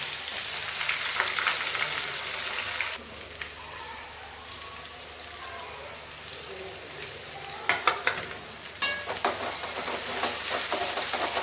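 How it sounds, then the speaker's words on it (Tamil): Onions sauté in hot oil for a chicken gravy, giving a steady frying hiss and crackle with sharper bursts of stirring and scraping toward the end. "மிதமான சூட்டில் வெங்காயத்தை வதக்கவும்."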